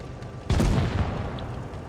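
A tank cannon fires in World of Tanks: one sudden heavy boom, loud and close, followed by a rumbling tail that hangs under steady engine noise.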